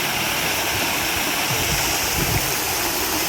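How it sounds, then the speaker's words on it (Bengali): Water splashes loudly and continuously from a fountain in Jannat Park in Zakiganj, Sylhet. The rushing cascade is close and unbroken, with no talking. "দেখতে কিন্তু খুব সুন্দর লাগছিল এই পানির ঝর্ণাটা"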